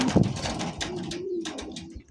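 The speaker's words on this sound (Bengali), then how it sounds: "আপনারা দেখতে পাচ্ছেন আরো এক জোড়া টাইগার কিং ভাই। টাইগার কিং ভাই, টাইগার কালারের মধ্যে কিং কবুতর" A pair of Tiger King pigeons, king pigeons in tiger colouring, coo at close range. A throaty burst comes early, then softer, rolling coos continue steadily through a short stretch.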